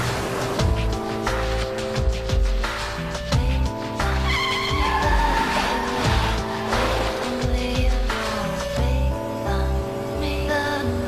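Race car tires squeal at Silverstone in repeated loud screeches, mixed with roaring engines as cars pass close by one after another, with no speech.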